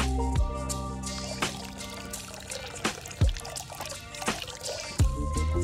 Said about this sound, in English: Pour gelatin into a container and add water.